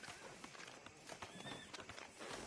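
A horse whinnies while hooves clop along, all fairly faint and close, in a Red Dead Redemption 2 game scene with no talking.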